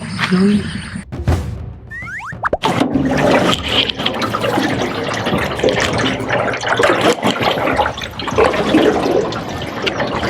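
Water flows steadily through a stream beside a boat on a fishing trip, a broad continuous rush with some knocks and a brief voice early on, fairly close and loud throughout.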